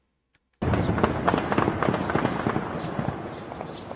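After two sharp isolated cracks, a dense rapid burst of gunfire rattles continuously, loud and close, like sustained automatic shooting.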